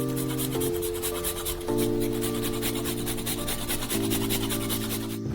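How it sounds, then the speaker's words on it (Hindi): Parmesan cheese is rubbed over a grater onto lasagna layers, making steady close rasping strokes in a repeating rhythm, with a faint tonal hum underneath. "ऊपर से बहुत सारा पार्मेजान चीज रगड़ेंगे"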